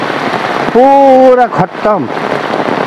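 Heavy rain hisses steadily over flooded village farm fields, a dense close wash of falling water that continues throughout while someone speaks briefly over it.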